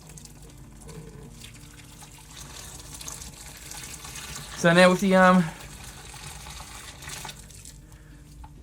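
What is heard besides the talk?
hot water poured into a brewing fermenter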